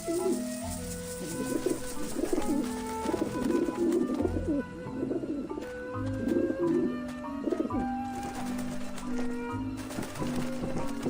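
In the video game Grim Fandango, pigeons coo steadily and repeatedly over a dense, continuous game soundscape with musical tones, loud and close throughout.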